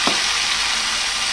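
Chopped tomatoes go into a pan of frying onions for palak paneer, setting off a loud, steady hiss of sizzling oil after a brief soft thud as they land.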